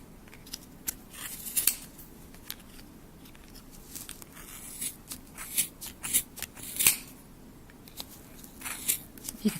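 Scissors snipping through the yarn of a pom pom made with a pom pom maker, with a series of sharp, close, irregular cuts and crackly rustling between them.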